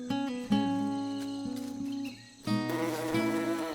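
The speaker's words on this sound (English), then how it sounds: "an orchid bee" Orchid bee, a metallic green bee with a very long tongue, buzzing close and loud in a steady drone that shifts pitch a few times, with no talking.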